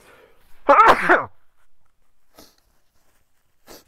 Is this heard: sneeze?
yes